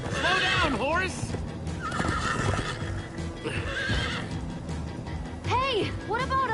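Repeated loud horse whinnies and clip-clopping hooves from Minecraft Story Mode, with short bursts spread across the clip over busy game sound effects and a voice speaking briefly.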